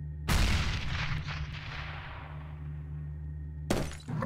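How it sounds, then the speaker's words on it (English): Grenade blast in the first-person shooter CS:GO: a loud, sharp boom followed by a long, gradually fading rumble and debris-like crackle, with a second burst near the end. "I'm throwing a grenade."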